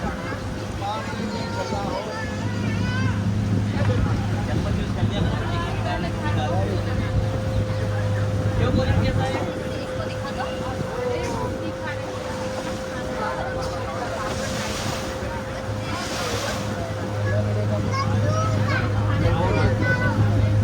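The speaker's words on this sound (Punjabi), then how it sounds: "ਝੀਲ ਦੇ ਕਿਨਾਰੇ ਵੱਲ ਨੂੰ ਪਹੁੰਚ ਰਹੀ ਹੈ ਬੋਟ ਹੌਲੀ ਹੌਲੀ" A boat ride on Fateh Sagar Lake in Rajasthan, with a low, steady motor hum and water wash running beneath continuous nearby talk and background crowd chatter.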